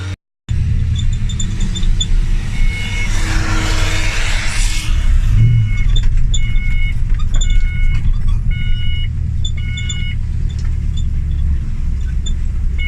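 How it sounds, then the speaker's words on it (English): A Ford Mustang being parked, with a loud low engine rumble running steadily throughout, close by, while a whoosh swells and fades early on and repeated electronic beeps sound in the latter half; no talking. "I'm going to see if I can park the Mustang back there"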